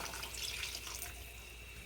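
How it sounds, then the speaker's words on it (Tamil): Dissolved tamarind paste is poured into half-cooked sambar, a soft, faint liquid splash and trickle that lasts under two seconds at close range. "இந்த சமயத்தில் நம்ம இந்த புளி பேஸ்ட் ஆட் பண்ணிக்கலாம்."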